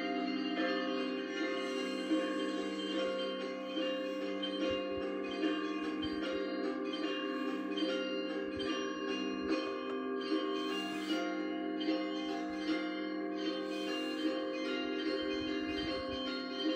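A bell rings during a moment of silence at a military and armed forces memorial prayer service, its sustained ringing tones layered and continuous for the whole stretch, with no talk.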